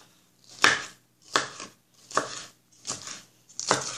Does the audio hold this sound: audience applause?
no